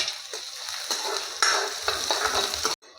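Garlic, green chilies and ginger frying in a pan, a steady close sizzle with scraping stirring strokes, stopping abruptly near the end.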